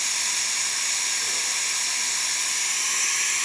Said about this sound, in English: that nice steady steam coming out of the steamer one